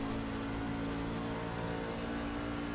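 Race car engine in a VR pickup truck racing game at Pocono, a steady droning whir held at an even level throughout, with no talking.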